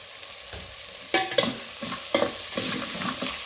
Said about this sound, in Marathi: आता हा कांदा छान परतून घ्यायचा आहे व्यवस्थित शिजवून घ्यायचा आहे